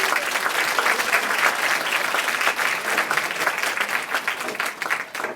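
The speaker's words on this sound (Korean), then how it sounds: "여러분 큰 박수로 환영해 주시기 바랍니다." An audience claps to welcome a retiring teacher to a commemorative class with former students, a dense, steady applause from a full room that carries on without a break.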